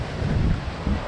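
Wind buffets the microphone aboard a rocking sailboat in a low, rumbling roar, steady and close, with a faint wash of water beneath it.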